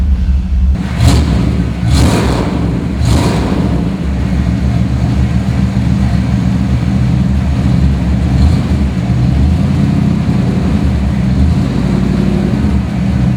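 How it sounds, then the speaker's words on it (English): A 1966 Lincoln Continental Coupe engine catches with a few rough bursts, then settles into a loud, steady rumbling idle that continues throughout. "let me fire it up for you and you can hear what it sounds like"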